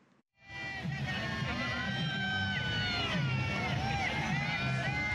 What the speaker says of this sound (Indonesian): Sorak-sorai penonton terdengar begitu Festival Ski Air Sulawesi Utara 2024 resmi digelar